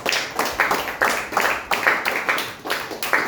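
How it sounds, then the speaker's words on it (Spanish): A church congregation claps in steady rhythmic applause during a Spanish-language service, a dense, lively patter of many hands with a regular pulse. "Dele aplausos al Señor."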